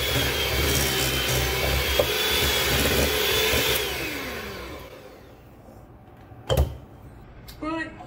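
Peanut butter pie filling being beaten until creamy, a loud whirring electric mixer grinding steadily, then winding down and stopping, followed by a few clunks and brief handling sounds.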